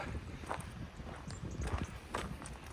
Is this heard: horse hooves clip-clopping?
yes